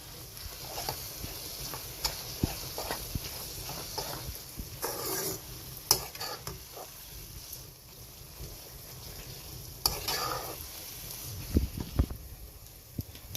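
An onion and mint mixture fries in a pan for a biryani, giving a soft, steady sizzle with occasional faint clicks and light stirring.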